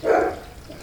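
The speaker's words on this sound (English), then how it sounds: "That's the neighbor's dog barking." A neighbor's dog at a countryside cottage gives a single short bark at moderate distance, alone with no talking.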